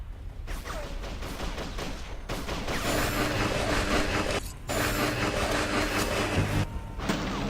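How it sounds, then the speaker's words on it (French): Gunfire erupts in the video game Darkest of Days at Pompeii, with rapid cracking bursts rattling over a dense, noisy background and brief drops to near silence around a couple of points. "Qui c'est qui me tire dessus?"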